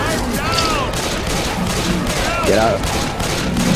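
Rapid full-auto gunfire in the video game Left 4 Dead 2, a dense crackling fusillade running under players chatting and calling out over voice chat.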